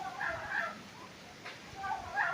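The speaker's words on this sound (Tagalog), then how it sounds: "Ayan, mga pabo yan." Birds cluck and gobble in short bursts at moderate distance, with a brief pause in the middle before the calling resumes.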